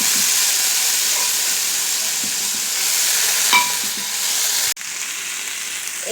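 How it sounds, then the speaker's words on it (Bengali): Peas, chickpeas and boiled potatoes fry in a pan with a steady, close sizzle and hiss that runs throughout, with a brief stirring scrape midway and a sudden dip near the end. "এরপর আমি দিয়ে দিচ্ছি মটরা, কাবলি ছোলা ও আলু সেদ্ধগুলো"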